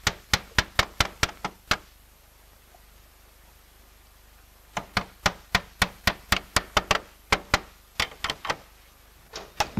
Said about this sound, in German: treibt der Laiendecker 2 breitköpfige Dachdeckernägel durch die vorbereiteten Löcher in das Holz